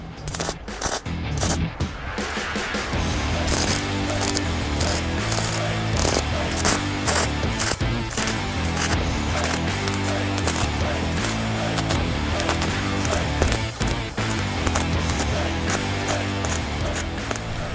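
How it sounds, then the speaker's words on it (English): A YesWelder MP200 welder running on a bracket during a repair, a steady crackling, sputtering buzz with irregular pops that carries on for most of the stretch at close range. "I'm going to weld it in place."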